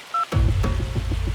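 A phone in The American Dream video game gives a brief electronic tone, then a louder buzzing ring pattern follows, close and clear with no voices.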